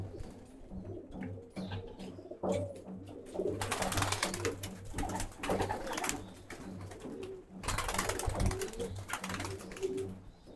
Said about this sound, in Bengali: কবুতরগুলো যে ছাড়া হয়েছে ওরা হয়তো বুঝতে পারে নাই, কেমন যেন একটা একটা করে বেরোচ্ছে